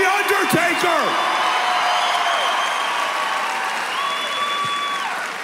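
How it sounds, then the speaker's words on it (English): Conference audience applauding The Undertaker, Mark Calaway, a broad wash of clapping that holds steady and slowly tapers, with whistles and brief whoops near the start. "Let's give him a huge round of applause."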